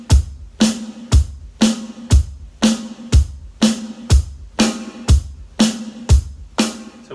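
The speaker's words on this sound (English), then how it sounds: "But we are now also playing the hi-hat on every single beat." A rock drum beat with the hi-hat struck on every beat over alternating punchy bass drum and snare hits, steady, close and loud, with no voices.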